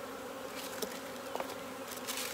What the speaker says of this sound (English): because when there's bees flying everywhere